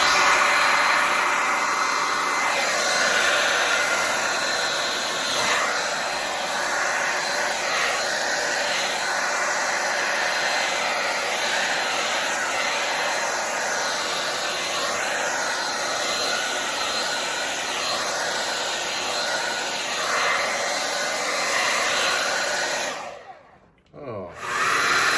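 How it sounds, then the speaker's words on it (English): A hairdryer blows steadily and loudly on a fluid acrylic Dutch pour painting, a continuous close whooshing roar with slight pitch wavers that cuts out abruptly near the end before starting again. "Let's see what we can do with the hairdryer here."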